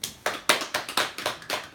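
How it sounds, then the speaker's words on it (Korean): Audience applause at the close of a church lecture session, about eight sharp claps in a quick regular rhythm from a small group, fairly close. "박수."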